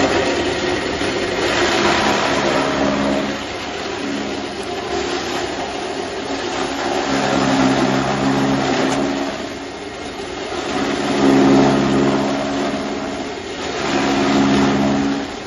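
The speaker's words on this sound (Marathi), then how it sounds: "हे पाहू शकता एकदम स्टँडर्ड वाली 2800 RPM वाली मोटर आहे याच्यामध्ये।" A chaff cutter driven by a 3 HP, 2800 RPM electric motor with four blades runs steadily, giving a loud, continuous mechanical drone with a low hum that swells and eases slightly throughout, with no voices.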